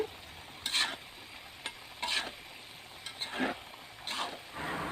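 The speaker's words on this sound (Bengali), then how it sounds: "এখন খুব ভালোভাবে তেলের সাথে বড়িগুলোকে আমি ভেজে নিব বড়িগুলোকে খুব ভালোভাবে নেড়ে চেড়ে তেলের সাথে ভেজে নিতে হবে" Dried jujubes being fried in oil with spices are stirred in bursts, with a spatula scraping and clattering in a pan several times over a soft, steady sizzle, close and fairly quiet with no talking.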